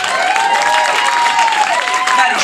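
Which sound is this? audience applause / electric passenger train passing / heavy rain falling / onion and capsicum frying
audience applause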